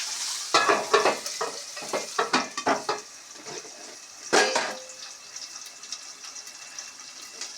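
Cumin seeds hit hot oil in a cluster of loud, crackling spatter bursts close by, then settle into a quieter, even sizzle; no speech.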